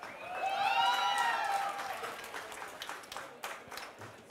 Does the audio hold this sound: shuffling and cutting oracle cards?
no